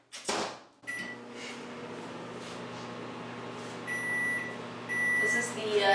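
A microwave oven hums steadily while melting butter, with a door clunk at the start, then a few short beeps near the end as people talk over it.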